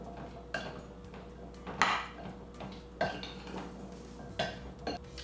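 A utensil scrapes and clinks against a bowl while chickpea and potato taco filling is mixed, a handful of soft knocks spaced about a second apart over quiet room tone.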